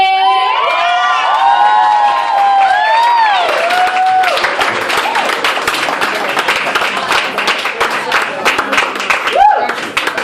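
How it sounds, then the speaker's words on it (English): A poetry slam crowd cheers loudly with high shouts and whoops that give way to dense sustained clapping, a lively near roar with scattered voices throughout. "Up to the stage now, clap for Betty!"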